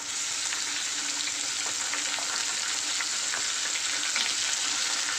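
Goat spleen with onions sizzles steadily in a hot pan as it is stirred, a dense continuous fry hiss with faint scraping ticks throughout and no voices.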